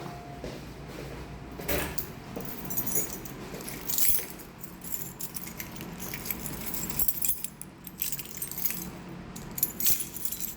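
A bunch of keys jangles and clinks repeatedly in an office while someone searches for one key, with scattered metallic rattles and a few louder handling bursts against a quiet room.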